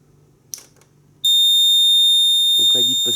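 A Nugelec type 2A fire alarm panel sounds a loud, continuous high-pitched electronic beep tone that starts suddenly after some quiet handling noise, with a person speaking briefly over it toward the end.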